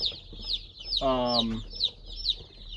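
Newly arrived Cornish cross meat-bird chicks cheep in high, rapid peeps that run through the whole stretch, with a brief louder fowl call in the middle.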